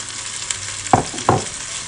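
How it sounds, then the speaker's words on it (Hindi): Spices with a little garam masala fry in a pan for arbi baingan masala, a steady close sizzle with two brief louder scrapes of stirring near the end. "इसको हम फ्राई करेंगे"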